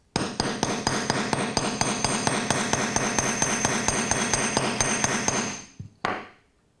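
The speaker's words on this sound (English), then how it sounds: "I would generally hammer the top of that curve to make it a nice springy, secure clasp." Rapid, even hammer taps on a metal wire clasp ring out in a steady rhythm for several seconds, then stop, followed by one final sharp strike.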